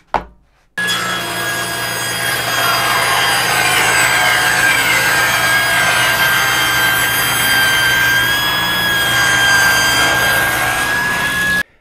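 A table saw ripping a lumber-yard board along the fence: a brief tap, then the blade whines loud and steady for about eleven seconds with a sustained high tone, close and alone before cutting off.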